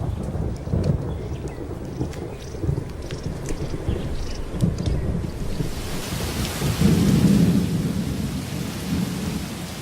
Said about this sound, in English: Thunderstorms may be brief here, but they often presage long rainy spells.